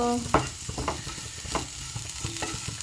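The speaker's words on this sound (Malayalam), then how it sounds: "എല്ലാം കൂടി ഒന്ന് മിക്സ് ചെയ്ത് കൊടുക്കണം" A spoon stirs coriander powder into a curry in a pan, giving repeated scraping strokes over a soft, steady sizzle, close and fairly loud, with no talking.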